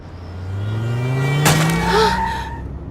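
A car speeds past in the rain, its engine rising steadily in pitch, then a sharp crash-like burst in the middle followed by a squealing skid as it moves away.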